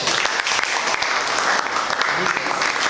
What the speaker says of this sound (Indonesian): kalau begitu beri tepuk tangan untuk kelompok